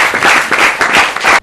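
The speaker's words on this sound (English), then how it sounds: "Can we clap for Air" Audience at a secondary school debate competition clapping for a school, a brief burst of loud, close, rapid applause in uneven waves.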